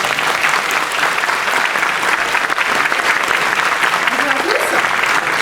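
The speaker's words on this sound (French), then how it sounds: "On peut l'applaudir" Sustained, dense applause from a crowd at a convention as a guest is welcomed on stage, loud and steady from start to finish with no break.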